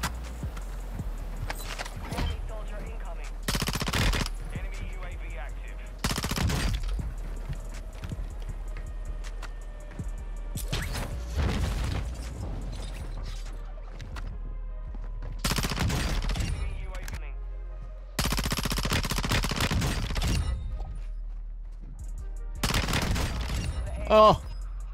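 P90 submachine gun fired in Warzone 2, heard as several loud bursts of rapid gunfire spread across the clip, separated by quieter game noise and someone talking.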